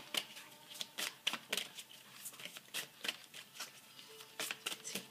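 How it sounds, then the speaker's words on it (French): Tarot cards riffled and shuffled for a final card draw in a romantic reading, a dense run of crisp, papery flicks and snaps at close range, fairly quiet, with no talking over them. "Ok, une dernière carte, s'il vous plaît, pour Molière, pour ce tirage sentimental."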